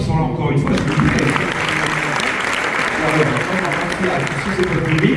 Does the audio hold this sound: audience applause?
yes